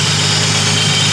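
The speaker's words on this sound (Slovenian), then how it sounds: "Ful se te dobro sliši v tunelu, ki naredi blow-off ventil" A 1000 hp Toyota Supra engine with a blow-off valve runs in a steady, loud, breathy roar, close up and unbroken, with no distinct valve burst.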